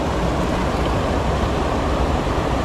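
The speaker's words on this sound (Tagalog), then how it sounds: "Yan, ang sarap ng pakinggan ng ano, bagsak ng tubig." Falling water pouring down steadily, a dense continuous rushing splash close by with no gaps and no voices.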